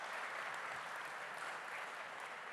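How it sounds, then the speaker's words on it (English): A crowd at the Boys To Men evening with Curt Cignetti gives sustained applause, a dense even wash of many hands clapping together, heard from some distance at a low level for the whole stretch. "one more round of applause for all of you"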